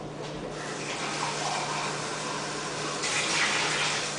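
Cold water runs steadily into a pot for cooking rice, a continuous broadband rush that swells louder near the end, with no voices.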